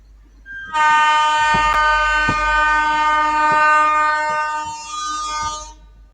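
A passenger train on the Porbandar–Bhavnagar route departing sounds a loud, sustained horn blast lasting several seconds, with rhythmic clanks of rolling wheels underneath.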